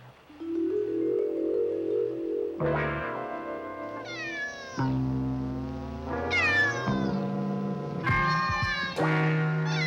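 A cat meows repeatedly in a television children's show scene, several drawn-out, rising and falling cries close by, with musical tones and background sound underneath.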